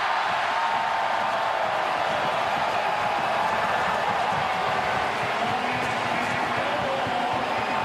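Crowd noise fills a hockey arena during the deciding Game 7 of the AHL Calder Cup Finals as a goal is waved off, a steady, dense roar of many voices holding loud and unbroken throughout.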